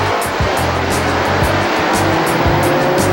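Alfa Romeo race cars speeding past on a track, engines roaring in a continuous loud drone with repeated high whooshes as cars pass in quick succession.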